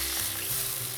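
Salmon and onions frying in a pan, a steady close hiss of sizzling oil running unbroken through the short moment with no voice.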